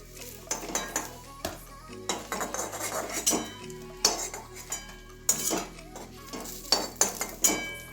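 A spatula scrapes and clinks against a pan as a cooked omelette is lifted into a bowl, giving close, irregular metallic taps and scrapes with a faint sizzle underneath.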